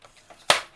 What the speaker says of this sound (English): So I'm just going to take my cutter, cut that off, and cut that off.